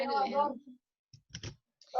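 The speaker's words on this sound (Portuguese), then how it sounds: "meu teclado é barulhento" A noisy computer keyboard gives a short burst of sharp, close clicks as a few keys are struck, between stretches of talking.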